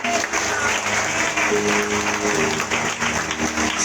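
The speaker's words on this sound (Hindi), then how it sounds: "जोर से ताली बजा।" A church congregation clapping loudly during a Sunday worship service, dense, sustained applause from many hands filling the room for a few seconds.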